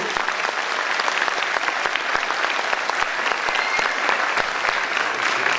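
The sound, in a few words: audience applause at a concert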